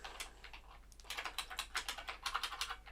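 Quick, fairly soft clicking of someone typing C code on a computer keyboard, irregular bursts of keystrokes growing busier partway through, heard alone up close.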